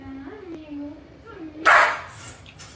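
A dog in a comedy clip compilation whines, then gives one sharp, loud bark, with people talking over it.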